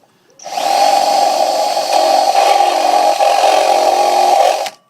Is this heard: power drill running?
yes